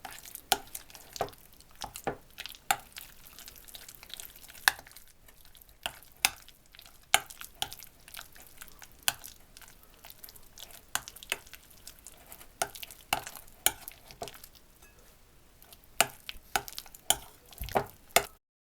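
A spoon repeatedly scrapes and clicks against a bowl while a garlic sandwich spread is mixed thoroughly. The taps and scrapes are close and fairly quiet, coming in an irregular, steady rhythm.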